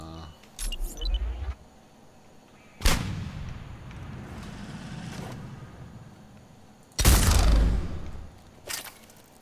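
Grenade blasts in the video game Mass Effect 3: two loud, booming explosions several seconds apart with rumbling tails, plus a lighter burst of gunfire near the start and a brief crack at the end.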